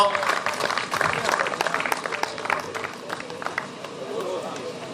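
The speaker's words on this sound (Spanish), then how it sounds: "Forte aplauso para Pablo Rey, terceiro clasificado dos non carrozados esta fin de semana" Applause from an awards-ceremony audience at the 2nd Subida a Vilar de Barrio 2023 hillclimb, honoring a third-place non-carrozado driver; steady clapping of a mid-sized crowd runs throughout, mixed with speech and murmur.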